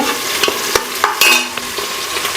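Onions and green chillies with spices frying in a pan, a steady close sizzle broken by several sharp clicks and scrapes of stirring, with no voices.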